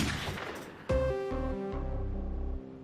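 A school principal character in a video game draws a gun: a sudden loud blast with a sharp onset, followed by a sustained booming, ringing tail that fades out over a couple of seconds.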